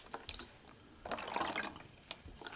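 Calm river water laps softly around a rowing boat in faint, irregular little splashes and drips, quiet and close.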